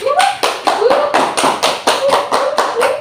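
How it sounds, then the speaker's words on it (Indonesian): A group of students applauds a classmate during a career guidance session, giving close, lively clapping that lasts about three seconds. "Berikan aplaus dulu sama teman tak"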